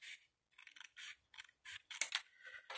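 Scissors snip through a paper or card tab on a homemade file sorter, a run of short crisp cuts in uneven rhythm separated by silence, close and clean, with a brighter rustle at the end.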